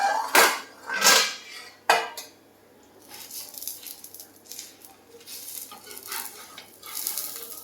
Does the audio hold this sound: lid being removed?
yes